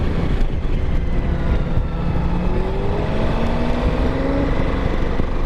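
Suzuki V-Strom 1000 motorcycle, a 2016 model, on a demo test ride, engine droning steadily with broad road and wind rumble throughout, pitch rising gradually as it accelerates, no talking.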